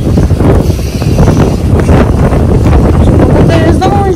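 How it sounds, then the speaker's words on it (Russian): Strong gusting wind buffets the microphone outdoors, a loud, steady low roar of wind noise that fills the whole clip, with a voice faintly audible under it. "Вообще поднялся конкретный ветер."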